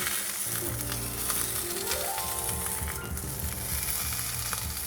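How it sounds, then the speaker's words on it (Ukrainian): Beef fat sizzles steadily in a hot frying pan, a constant crackling hiss close by with a faint rising tone partway through. "ми жирком трохи і змастимо сковорідку і ось цей жирок трохи поплавимо"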